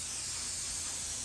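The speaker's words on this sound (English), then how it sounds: "I'm just going to spray it off camera onto a tissue" Airbrush spraying clear water onto a tissue during model railway weathering, a steady, soft, continuous hiss of fine spray, heard alone and fairly quiet.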